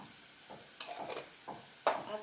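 Garlic and pimenta de cheiro fry in a pan, with faint sizzling broken by a few quick stirring scrapes, each a short burst, the last one strongest.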